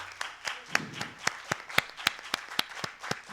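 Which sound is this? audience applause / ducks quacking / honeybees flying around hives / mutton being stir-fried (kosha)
audience applause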